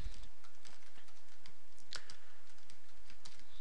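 Command being typed on a computer keyboard while configuring a Debian 6 Squeeze OpenSSH server: a rapid, steady run of light key clicks at close range with one slightly louder keystroke midway, no speech.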